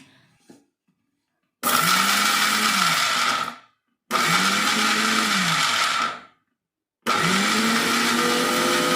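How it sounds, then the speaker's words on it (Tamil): An electric blender coarsely grinds grated coconut and garlic in three loud bursts of roughly two to three seconds each, separated by short silent pauses, with no talking. "இது எல்லாமே வந்து கொஞ்சம் கோர்ஸ் டெக்ஸ்சரில் வந்து பிளெண்ட் பண்ணிக்கலாம்."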